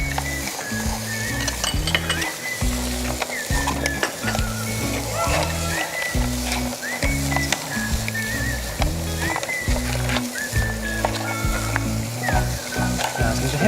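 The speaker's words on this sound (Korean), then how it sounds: "이렇게 해물을 볶으면서 같이 자, 완전히 익혀주시고 파프리카도 같이" Seafood and paprika sizzle steadily as they stir-fry in a pan on a TV cooking show, with utensils clinking and scraping, up close under ongoing background music.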